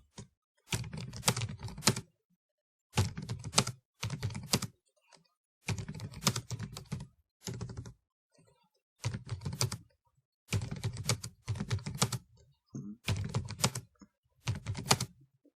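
Computer keyboard typing as a brand name is entered while editing a photography logo in Canva: close, crisp bursts of rapid keystrokes separated by short pauses, with no talking.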